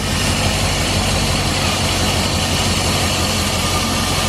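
A steady low engine hum from an idling 4x4 tow car, running quietly and evenly at close range for several seconds, with no voices.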